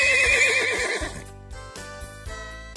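A horse gives one loud, wavering neigh, followed by light tonal music with soft rhythmic thumps.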